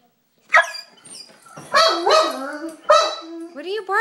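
A dog barks indoors at a feather, several sharp nearby yips and barks in short bursts, with a person talking over and between them.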